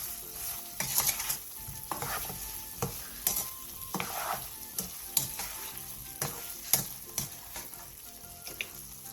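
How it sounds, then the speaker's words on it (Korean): A spoon stirs a braised Korean side dish in a pan after a spoonful of sugar goes in, producing repeated scraping clinks over a soft background sizzle, steady and close, with no voices. "다 졸여졌으면 설탕 1스푼을 넣고 다시 한번 골고루 뒤적여주세요."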